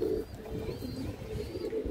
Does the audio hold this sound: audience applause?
no